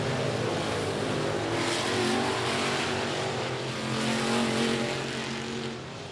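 Race cars at I-37 Speedway roaring down the back straightaway, a continuous loud engine drone that swells and fades slightly as the pack passes at a distance.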